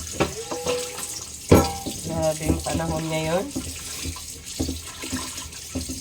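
Tap water runs over a frying pan as it is washed at a sink, a steady splashing hiss broken by clatters, while someone talks over it.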